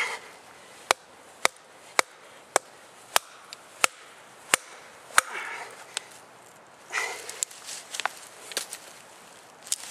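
A Cheaper Than Dirt knife is struck as hard as possible in a rough-use test, giving about ten sharp, loud, evenly spaced whacks roughly half a second apart, then scattered rustling and rattling knocks.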